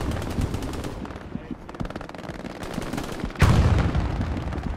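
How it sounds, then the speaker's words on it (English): MG42 machine gun fire in a video game, a rapid, steady rattle of closely spaced shots running throughout, with a loud burst or explosion near the end. "We just got shredded by an MG42."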